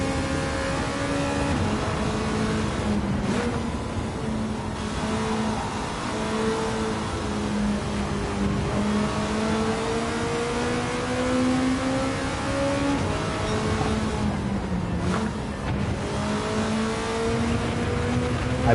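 Ferrari Mondial engine in Gran Turismo 7, droning steadily with rising and falling pitch as it revs through the gears, two brief dips during shifts, continuous and fairly loud with no talk.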